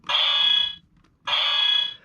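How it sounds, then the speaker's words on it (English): An electronic slashing sound effect from a Tega Sword Sentai toy blares twice, each a bright buzzing tone lasting under a second, separated by a short silence. "There is now another slashing noise when you push a button."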